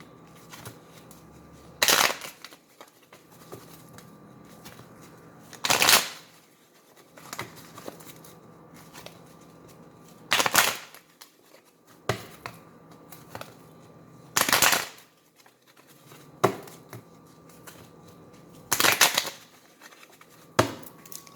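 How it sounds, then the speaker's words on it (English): Tarot cards are shuffled in brief riffling bursts every few seconds, with quiet handling noises between them in a calm room. "I'm shuffling your cards."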